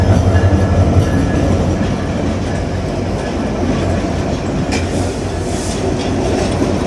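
Meter gauge train pulled by locomotive 3025 entering Natore railway station at night, close loud rolling rumble with clickety-clack of wheels and brief metallic squeals, no talking.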